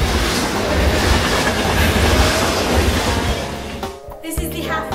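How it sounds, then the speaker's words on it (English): A train runs past beside a tunnel in Yamanashi, Japan, a loud, continuous rumbling clatter of wheels on rails that breaks off abruptly near the end. "there are actual trains running next to us"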